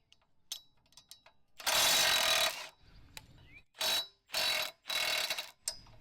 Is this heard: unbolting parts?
yes